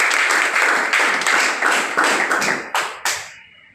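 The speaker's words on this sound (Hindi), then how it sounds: "इनके लिए जोरदार तालियां" Audience applause at a lively meeting: a dense, loud wash of clapping that holds steady for about three seconds, then thins into a few last separate claps and fades out.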